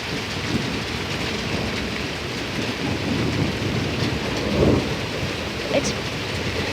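Thunder rumbles close overhead through a severe thunderstorm, a broad continuous roll with a louder crack-like swell near the end, while steady rain hisses on surfaces underneath.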